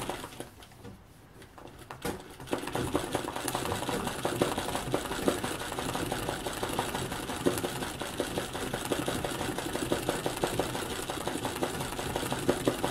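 An embroidery machine stitches brown thread to fill the trunk of a Christmas tree design, a fast steady mechanical whirring and needle clatter that starts after a brief quieter moment and runs on continuously.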